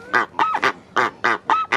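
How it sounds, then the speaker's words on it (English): A goose at a bayou bird farm gives a run of six or seven loud, nasal honks in a quick uneven rhythm, close and clear with no talk over it. "This is another bird"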